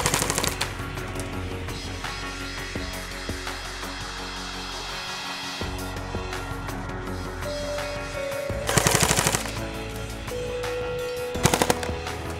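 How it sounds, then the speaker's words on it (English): Airsoft rifle set to full automatic, firing a continuous rapid stream of pellets in a dense mechanical rattle that runs through most of the stretch, with a louder burst near the end. "You will both see and hear the gun firing as the pellet can be seen ejecting from the barrel"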